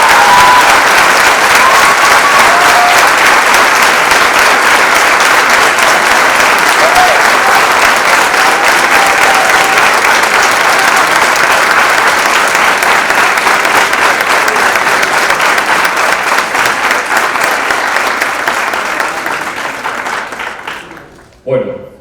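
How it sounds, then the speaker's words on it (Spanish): A large audience at a Latin American communications conference applauds, a loud, steady roar of clapping holding for about twenty seconds before fading out. "La verdad que se merecen un aplauso."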